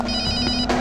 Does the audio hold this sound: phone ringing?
yes